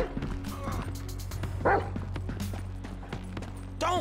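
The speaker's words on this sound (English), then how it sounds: "Screw that dog, man! Don't hump him. Bite his ass, Chop." A Rottweiler-type dog in GTA 5 barking and yelping in an aggressive attack, sharp barks and whimpers scattered over game ambience and background voices.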